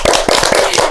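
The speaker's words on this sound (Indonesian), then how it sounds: "keren banget kalian, bisa tepuk tangan sekali lagi" Audience clapping at a student science competition talk: dense, loud applause with sharp individual claps and a rattling texture throughout the short burst.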